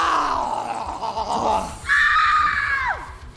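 A person screams as loud as they can in two long, strained bursts, the second higher and louder before trailing off into a falling cry.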